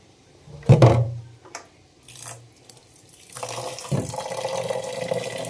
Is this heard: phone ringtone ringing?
no